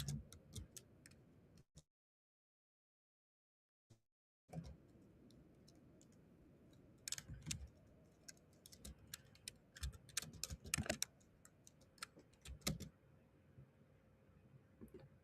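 Computer keyboard typing during a live trading session: bursts of sharp, close key taps with a brief silent gap near the start, then irregular clusters of clicks over faint background noise.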